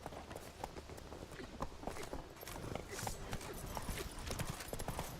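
Roach, the horse in The Witcher 3, gallops with rapid, steady hoofbeat clip-clops under continuous game ambience, driving on for the whole stretch without pause.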